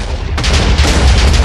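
A Minecraft explosion blasts out rock underground to widen a room, a loud broadband burst that swells suddenly and rumbles on with heavy low-end roar and crackling debris.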